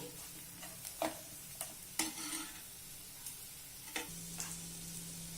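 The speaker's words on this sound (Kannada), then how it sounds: "ಸ್ವಲ್ಪ ಒಂದು ಅರ್ಧ ಸ್ಪೂನ್ ಅರಿಶಿನ, ಈಗ ಈರುಳ್ಳಿ ಚೆನ್ನಾಗಿ ಬೇಯಲಿ." Onions frying with turmeric in a pan, stirred with scattered sharp scrapes and taps over a faint, steady sizzle.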